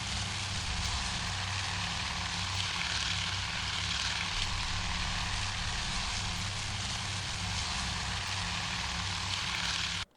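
Propeller engines of World War II torpedo bombers drone steadily in the Task Force Admiral naval combat game, a loud continuous buzzing roar holding level for about ten seconds before cutting off abruptly.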